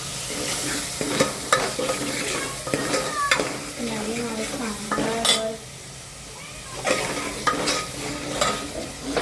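Masala for Kolhapuri fish curry roasts in oil over a low flame, with a steady soft sizzle. A spoon stirs and scrapes against the pan in irregular strokes throughout.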